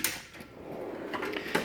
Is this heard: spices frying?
no